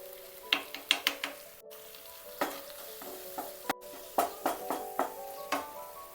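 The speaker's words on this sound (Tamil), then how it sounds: "வெள்ளை பூண்டு 1 tablespoon. நல்லா ஃப்ரை பண்ணணும்." Garlic fries in a pan for a potato gravy, a soft background sizzle broken by a series of sharp scraping and tapping strokes from stirring, close and fairly quiet.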